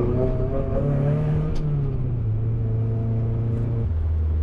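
A Mazda MX-5 drives along with a steady engine drone heard from inside, the pitch easing down gradually as it cruises, continuous and fairly loud with no talking.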